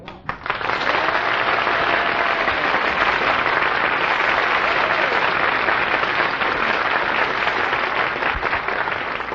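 A studio audience at a live game-show taping bursts into loud, sustained applause that starts abruptly and holds at a dense, even roar of clapping for several seconds without letting up.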